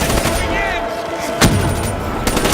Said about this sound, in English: We're under fire! Hit the deck!